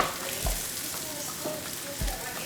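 Ingredients for a simple five-ingredient ramen browning in a hot pan, a steady close sizzle broken by a couple of soft thumps as pieces are pressed flat, with no talking.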